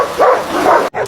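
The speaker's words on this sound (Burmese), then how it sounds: "ခွေးဟောင်တန်နေနဲ့စူညံနေတာပဲ" Stray dogs bark while being fed outside a home, a few sharp, close yips and woofs in quick succession, loud and alone, ending with one short bark after a brief gap.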